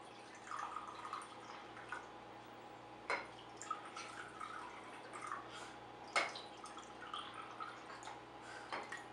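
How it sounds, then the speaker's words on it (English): Red zinger tea is poured into glasses in a faint, distant trickle with scattered drips and occasional sharper clinks, heard low over a soft steady hum. "here's a clip where he's pouring it into glasses for people to enjoy"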